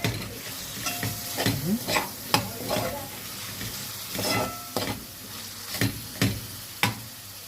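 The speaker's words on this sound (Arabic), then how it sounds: "كده احنا هنسيب اللحمه ان هي تتحمر شويه مع البصله" Meat browns with onion in a pot for an okra stew, a steady sizzle broken by repeated scraping stirs of a spoon against the pot, close and clear.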